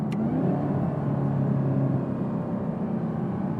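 A 2018 Camaro ZL1 engine rumbles steadily from inside the car during downshifts, a deep continuous drone with slight rises in pitch, loud and with no talking.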